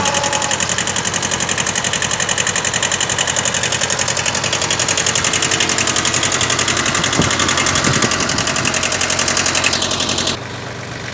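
A small tractor for work around a private house runs steadily at close range, a loud, continuous engine drone with a fine rapid beat, then drops to a quieter level just before the end.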